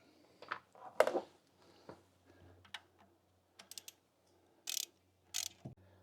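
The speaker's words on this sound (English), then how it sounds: "We're going to go ahead and tighten that down." A ratchet tightens the locking screw on a Jeep oil filter adapter, giving sparse close clicks and short metallic bursts separated by near silence.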